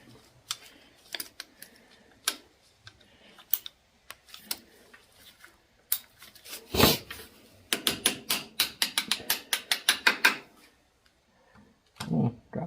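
A ratchet wrench clicks rapidly and evenly in a close burst while working on a 1950 Farmall Cub engine during valve work, preceded by scattered metallic taps and handling noises.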